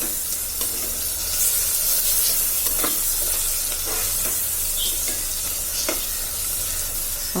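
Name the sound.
mutton biryani spices frying in a pan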